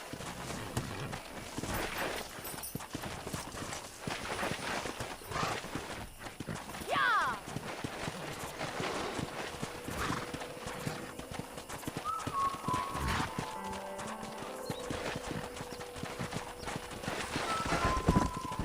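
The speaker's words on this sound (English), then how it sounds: "Let's see if we can't wrangle some horses." Horses gallop in the PS3 game Red Dead Redemption, a steady clip-clop of hooves with an occasional whinny, while characters talk over the running herd.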